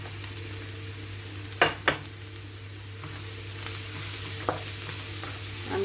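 Mushrooms sizzle in a pan with softened onions while being stirred continuously. A steady frying hiss runs throughout, broken by a couple of sharp utensil clinks early on.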